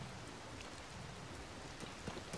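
Steady rainfall in Zelda: Tears of the Kingdom forms a dense, even hiss of drops without pause, quiet and continuous, with no voices over it.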